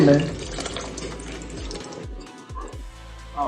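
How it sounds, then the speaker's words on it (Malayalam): Tamarind water pours and splashes into a pot of sambar at close range, a short run of watery gurgling with a voice speaking briefly at the start. "കുറച്ച് പുളിവെള്ളം ഒഴിച്ചു കൊടുക്കേ"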